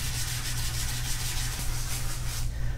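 Sandpaper rubs across the surface of a stand up paddle board to prep it for mounting a seat and D-rings. The close scratching whoosh is even and unbroken for a few seconds.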